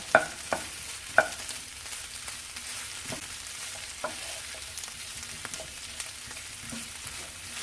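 Bacon hash with onion is turned in a frying pan, a steady low sizzle running throughout with a few soft scraping stirs and light clinks near the start, no talking.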